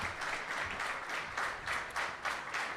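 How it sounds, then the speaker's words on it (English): An audience at a political debate event applauds a speaker, the clapping rising and falling in waves and sounding somewhat distant. "keep that round of applause going"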